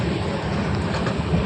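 Inside a moving, nearly empty train carriage, a steady loud rumble and rattle of wheels and car body fills the whole short stretch without a break, then cuts off abruptly.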